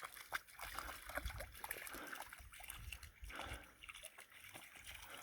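A dog lapping water outdoors on a forest camping trip, with quick wet splashes and trickles at irregular intervals, faint and close, against a quiet background.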